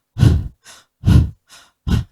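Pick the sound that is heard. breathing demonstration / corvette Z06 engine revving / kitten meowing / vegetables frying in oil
breathing demonstration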